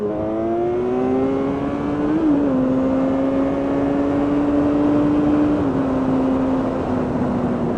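A steady, droning Kawasaki Z1000 motorcycle engine at cruising speed on a night ride, its pitch holding level with slight dips as the bike rolls along, no talking.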